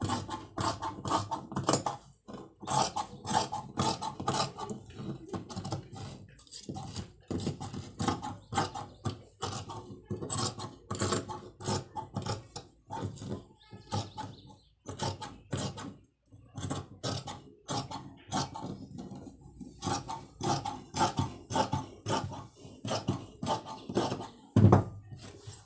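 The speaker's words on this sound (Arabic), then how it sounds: "ودابا غادي ندوز نقطع البياسه" Scissors cut through a piece of djellaba fabric in a long run of quick, crisp snips, close and fairly soft, with regular short pauses between strokes.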